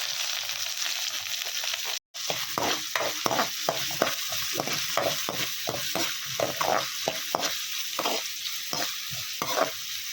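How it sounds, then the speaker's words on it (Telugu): Green chillies fry for a bottle gourd curry as a spoon stirs and scrapes the pan in quick rhythmic strokes over a constant hiss of sizzling oil, close up. "ఇవి కూడా వేసుకొని ఫ్రై చేసుకోవాలి."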